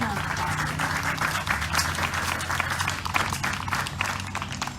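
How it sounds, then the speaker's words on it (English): Crowd applause at a workforce crisis rally, a dense, continuous wash of clapping from many hands, fairly loud and steady over a few seconds, with voices mixed in. "So let's give everyone a big round of applause."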